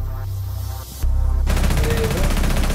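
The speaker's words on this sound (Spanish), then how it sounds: "pero le metió buenos tiros" Rapid gunfire in the tactical shooter game Rainbow Six Siege during a ranked match, a loud, dense burst of shots that surges and holds steady for a couple of seconds with no talking over it.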